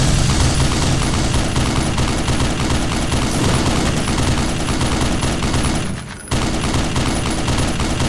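In Black Mesa, a turret rattles out sustained, loud automatic fire for about eight seconds, breaking off once briefly before the rapid bursts resume.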